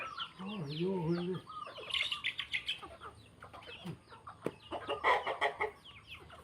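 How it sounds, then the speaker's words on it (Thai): Chickens cluck and chirp nearby in scattered bursts while eating rice, with soft pecking and rustling between calls and a voice briefly heard at the start. "ภารกิจยามเช้าไก่ก็มาเก็บกินข้าวด้วย หวานข้าวให้ไก่"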